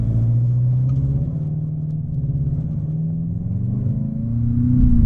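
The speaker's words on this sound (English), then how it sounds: "even in normal mode, the engine sounds pretty good" A 2020 Volkswagen Jetta GLI engine hums steadily from inside the cabin in normal mode, then its pitch rises as it accelerates, with low rumble throughout.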